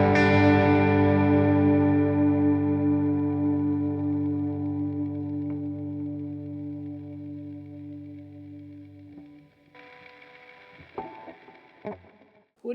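An electric guitar played through a Top Screamer overdrive on an Ampero processor rings out a sustained distorted chord that slowly fades, followed by a few quieter picked notes and string noises.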